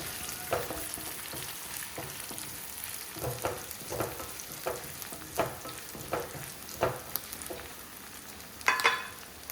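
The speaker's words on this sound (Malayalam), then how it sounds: "ഇനി നമ്മൾ നല്ല ഫ്രഷ് കറിവേപ്പിലയും കൂടി ഇട്ടിട്ട് നന്നായിട്ടൊന്ന് വഴറ്റി കൊടുക്കാം" Fresh curry leaves sizzle in hot oil in a pan while a spoon stirs them. Steady frying crackle carries a series of regular scraping strokes, with a louder burst near the end.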